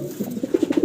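A healthy fancy pigeon with stone eyes and a thick beak gives a brief, soft run of low coos, several short rounded notes close together near the listener.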